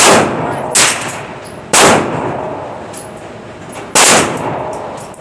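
Derya Arms TM22 .22 LR rifle firing at a range, three sharp, loud shots spaced a second or two apart, each with a ringing tail, and no talking.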